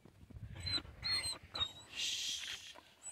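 A hunting dog, a female kept back while a partridge hunt goes on nearby, gives soft high whimpers and whines in a few short bursts, fairly close with outdoor background noise and no talking.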